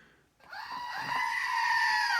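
A single drawn-out goat bleat, wavering and scream-like, rises after a brief silence and holds strongly to the end, played as a sound effect.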